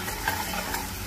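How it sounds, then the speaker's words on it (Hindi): Red chilli and salt are stirred into zunka in a pan, a continuous soft scraping and sizzling texture, close and steady, with no voices. "सभी को इसी तरह से इसमें मिक्स कर लेंगे।"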